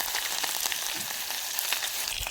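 Curry leaves hit hot oil in a tempering for Gujarati handvo, giving a loud, dense, continuous sizzle and crackle with small popping bursts throughout.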